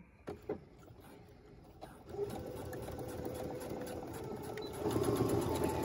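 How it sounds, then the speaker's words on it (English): A sewing machine stitches a fabric face mask, starting with a few clicks and then settling into a steady, fairly quiet mechanical whir that speeds up toward the end. "And you can just do a straight stitch for this, or you can do a zigzag."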